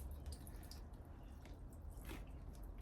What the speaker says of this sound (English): Now if I start putting some water into it